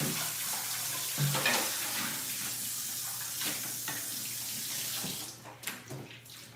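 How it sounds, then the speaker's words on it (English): A cooking pot washed in a sink under a running tap, steady rushing water with a few clunks of the pot, ending in splashes and drips as the flow tapers off. "So you're going to wash all the pot."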